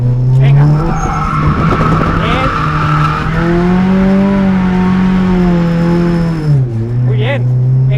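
A car drifts with its tires skidding and squealing loudly and continuously, the engine droning underneath, while people talk over it.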